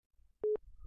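A single short telephone busy tone sounds once after the caller hangs up, a clean steady beep standing alone against a quiet line.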